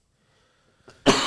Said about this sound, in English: Put the mic away from your mouth when you cough so it's not so loud.